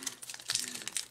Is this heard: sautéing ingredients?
no